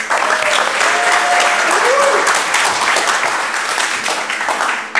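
Loud, dense applause from a theater audience greeting a cabaret comedian, sustained clapping that carries on strongly for the whole stretch before easing slightly at the end.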